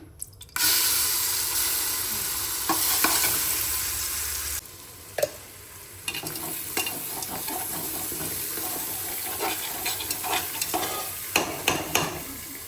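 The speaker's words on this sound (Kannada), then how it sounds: "ಇವಾಗ ಇದನ್ನು ಒಗ್ಗರಣೆ ಹಾಕ್ಕೊಳ್ಳೋಣ. ಸ್ವಲ್ಪ ಎಣ್ಣೆ ಹಾಕ್ಕೊಂಡಿದ್ದೀನಿ." Green paste for a tempering hisses and sizzles loudly in hot oil, a continuous crackle that eases partway through, with stirring scrapes and clatter against the pan coming at intervals.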